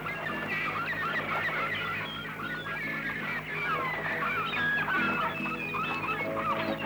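A large flock of migratory geese along the Indus Flyway in Pakistan, with dense, overlapping honking and clucking calls from many birds together, steady and continuous at moderate distance.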